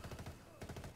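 Rapid automatic gunfire from a shooter video game set in Wildlands, heard as a fast burst of repeated shots that pauses briefly and resumes, fairly quiet overall with a faint voice in the background.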